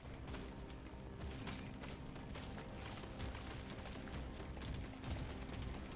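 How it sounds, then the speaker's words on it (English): An autocannon fires continuously in the video game Deep Rock Galactic: Survivor, a fast stream of mechanical shots layered with clattering game effects, quiet overall and steady from start to finish. "What is the autocannon shooting at?"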